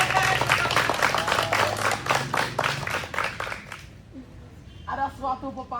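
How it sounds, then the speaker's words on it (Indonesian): A school gathering of new students at SMA Cendrawasih breaks into a burst of dense, close clapping for about four seconds, then fades as a voice begins speaking. "tepuk tangan dulu tuh untuk kita semua"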